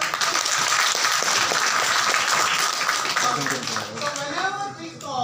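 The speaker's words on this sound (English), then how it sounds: "Shall we have a round of applause for the Haider?" Students at an engineering college motivational event give a loud round of applause for a student on stage; dense clapping fills the hall, then thins out as a voice begins speaking over the tail.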